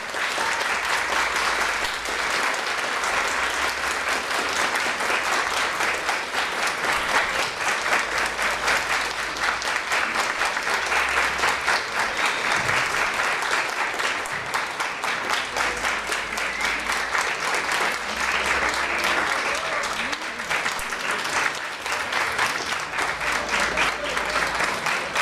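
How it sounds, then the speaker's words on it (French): Crowd at a Toulouse conference applauding guest Nicolas Gabion, loud sustained clapping for around twenty-five seconds with faint voices underneath. "Un gros tonnerre d'applaudissements pour, comme seul Toulouse sait les faire, pour notre invité du jour"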